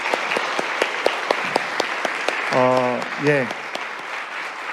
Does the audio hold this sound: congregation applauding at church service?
yes